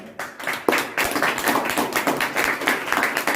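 Audience at a church sermon clapping loudly and continuously, a dense crackle of many hands close up with a sharp burst near the start and steady, uneven claps throughout.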